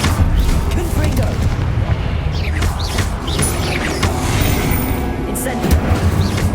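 Confringo explosion spell in the Hogwarts Legacy video game, a dense, continuous barrage of booming blasts and crashing impacts with heavy low rumble throughout, loud and close amid chaotic combat noise.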